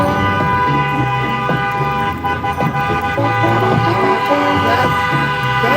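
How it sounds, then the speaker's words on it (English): A city bus in New Orleans honks a loud sustained horn during a Critical Mass bike ride, its steady toot blaring close by over street noise and passing traffic. "That's a city employee in a city bus that's honking at us."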